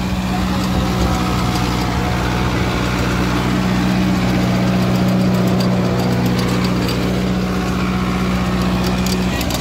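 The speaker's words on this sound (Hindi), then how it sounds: "ट्रैक्टर जो है बिना आरपीएम ड्रॉप करे चल रहा है" A Kubota MU5502 tractor drives a rotavator buried in the soil, its engine droning loud and steady under load without dropping revs, a strong low hum throughout.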